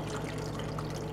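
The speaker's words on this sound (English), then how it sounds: "we're just gonna pour this right over our veggies and our meat" Liquid mixture poured over vegetables and meat in a crock pot for a pot roast, a steady continuous trickling and splashing pour running close and fairly loud throughout.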